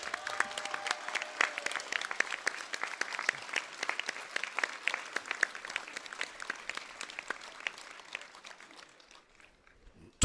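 A crowd of over 3,000 people at a hospital rally on Place Léopold in Arlon breaks into sustained applause, dense clapping filling the square for several seconds before fading toward the end.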